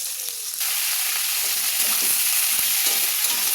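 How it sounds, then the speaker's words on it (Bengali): Onion, jackfruit and potato pieces frying in hot oil with whole cumin, bay leaf and whole garam masala, a steady close sizzle that jumps louder after a brief quieter start, with faint stirring clicks throughout. "পেঁয়াজ ভাজা রাখা এঁচড় আলুগুলো দিয়ে ভেজে নিচ্ছি,"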